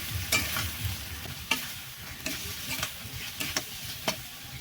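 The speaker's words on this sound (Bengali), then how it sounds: "এবার যতক্ষণ এই মশলা থেকে তেল না বেরোবে ততক্ষণ আমাকে এভাবে নেড়ে চেড়ে কষাতে হবে" Spice masala sizzles and fries in hot oil in a pan while a spoon stirs it, giving close, steady frying hiss with regular scraping strokes.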